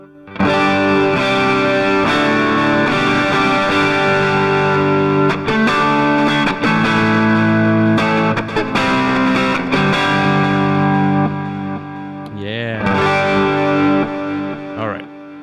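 Electric guitar with light overdrive distortion plays sustained, gritty chords, loud and continuous, ending with a brief warbling bend.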